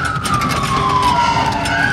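A fire engine's siren wails steadily and loudly while the truck speeds to an emergency, its tone sliding slowly down and back up over continuous road and engine noise.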